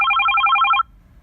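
An Avaya 9620 desk phone plays its Pac-Man ringtone, a quick run of bright electronic chiptune beeps lasting under a second before it stops, heard close and alone.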